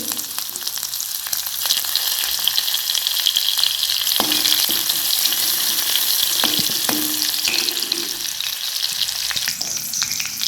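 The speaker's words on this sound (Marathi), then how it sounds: "ते चांगलं गरम झालं आहे आता आपण लसूण टाकून घेऊया" Garlic sizzles loudly in hot oil seasoned with cumin, a dense continuous crackle with occasional scraping stirs of a spoon in the pan.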